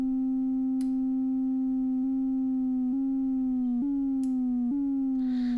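Arturia Yamaha CS-80V software synth plays a sustained bright tone whose pitch steps downward in a repeating sawtooth ramp from the sub-oscillator, several drops within a few seconds, heard clean and alone.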